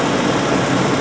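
Propane is fed into an idling car engine so it runs rich, and a steady close engine hum carries on without a break and without speech.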